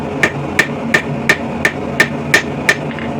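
Blacksmith hammering the corner of a hot steel dog-head hook on an anvil, eight sharp ringing strikes in a steady, quick rhythm, close and loud.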